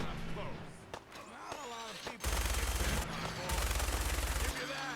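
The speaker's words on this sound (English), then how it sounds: "Y'all still shooting?" Bursts of automatic gunfire in the video game Fallout 4, rapid repeated shots in two loud stretches with quieter game sounds and voices between them.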